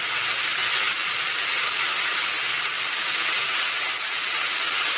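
Coconut pieces, poppy seeds and cumin frying in a pan for egg biryani: a steady, continuous sizzling hiss that holds evenly throughout without pause.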